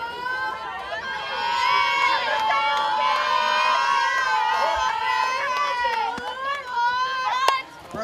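Spectators at a varsity high school softball semi-final cheer and shout steadily, with many children's voices, a loud sustained roar from nearby stands mixed with chatter.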